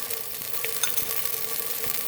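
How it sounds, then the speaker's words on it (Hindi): Chopped onion frying in oil with a teaspoon of ginger garlic paste for an aloo matar curry, giving a steady close sizzle with small crackles and faint stirring throughout, no voices. "प्याज के साथ ही हम फ्राई करेंगे।"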